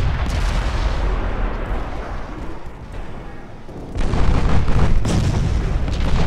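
Eight-inch naval guns firing in the Ultimate Admirals: Dreadnoughts naval battle game, a dense stretch of heavy booming salvos and rumbling blasts that grows louder toward the end, with no speech.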